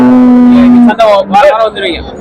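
At the Morpalayam cattle market a cow gives one long, steady low moo, close and loud, and then people's voices take over.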